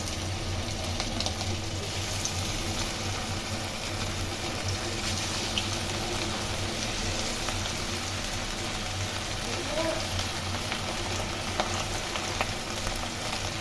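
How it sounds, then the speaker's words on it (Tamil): Marinated chicken pieces fry steadily in hot oil, a dense continuous sizzle and crackle that stays close and even throughout, with no talk over it. "இதை நம்ம ஒன்று ஒன்றா பொரிச்சு எடுத்துடலாம்."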